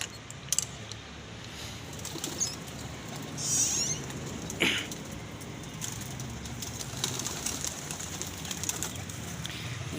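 Pigeons on a rooftop loft holding about fifteen birds give soft, faint coos and rustles, with a couple of brief sharper calls over a steady low background hum.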